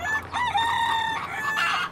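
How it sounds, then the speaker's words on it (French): A rooster crows loudly and clearly from a farmyard kept aboard the ocean liner SS L'Atlantique, one long drawn-out call filling the two seconds with a faint hubbub of fowl beneath it. "on entendait souvent s'élever des bruits de la basse-cour"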